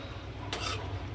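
Masala being stirred in a cooking pot, one brief scraping stroke of a spoon rising over a faint background hiss, close and short.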